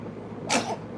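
A single short, sharp sneeze from a person indoors, a sudden breathy burst over a quiet background, followed by a faint second puff at the very end.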